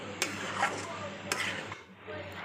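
Brinjal that had been soaking is stirred into lote fish in a pan, giving a few sharp utensil scrapes and clinks against the pan over a low background hum.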